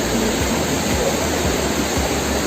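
Seetharkundu waterfall in the Nelliyampathy valley near Kollengode pours fresh mountain water down, a loud, dense, unbroken roar close by with a faint low rumble pulsing underneath and no voices.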